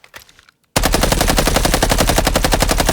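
Sustained rapid automatic fire from a suppressed gun build in a video game, a dense, loud, even burst of shots lasting over two seconds after a brief quiet lead-in.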